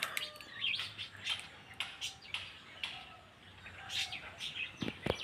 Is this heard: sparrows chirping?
yes